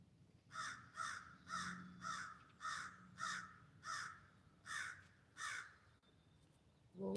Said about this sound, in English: But I keep thinking that big crow is going to come over and want to